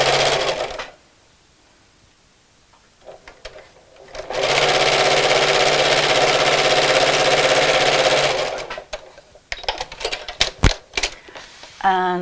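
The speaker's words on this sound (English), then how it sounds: "So let's just sew across here." A sewing machine stitches across the seam of a fabric Christmas bag, a continuous fast mechanical whirr lasting several seconds, bracketed by quiet pauses and brief clicks and knocks of handling before and after.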